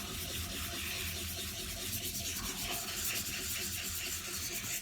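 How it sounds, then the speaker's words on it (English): Coarse sandpaper rubbed back and forth over the metal head of an 8 iron golf club, scraping off paint in a continuous close, gritty abrasive rasp with no pauses. "this is obviously scratching the metal up a lot more with it being the coarser sandpaper"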